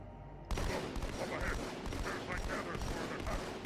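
Rapid bursts of gunfire in the video game Halo 2 Anniversary, a dense crackling fusillade that starts abruptly and keeps up steadily, with game sounds layered underneath.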